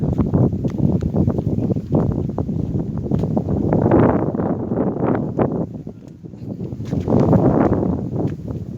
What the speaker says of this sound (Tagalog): Kitang malakas yung hangin.